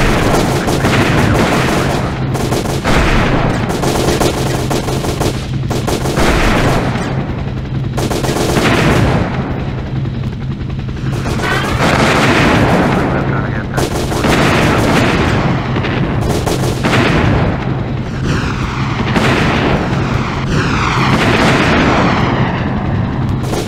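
Rapid, continuous gunfire and heavy weapon blasts from the helicopter shooter game Hell Copter, loud and dense throughout with booming explosions layered over constant automatic fire.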